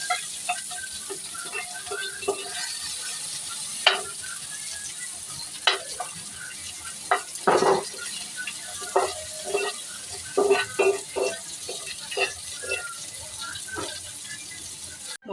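Spices for a homemade butter chicken masala fry in an oil-filled kadai with a steady soft sizzle, broken by repeated scraping and stirring clicks of a spatula against the pan, close and moderately loud with no talking.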